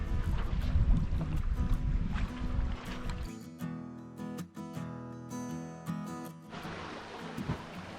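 Sailboat under jib alone off a tropical island coast, with rushing water and wind noise against the hull, loud at first, then quieter with a faint hum before the wash returns.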